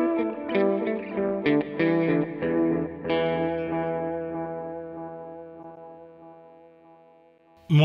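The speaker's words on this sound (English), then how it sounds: "Or the reverb into the delay." Electric guitar through a NUX Trident multi-effects unit with reverb feeding into delay: several strummed chords and picked notes ring out, then one long chord decays into a smooth washy tail, a fresh attack cutting in at the very end.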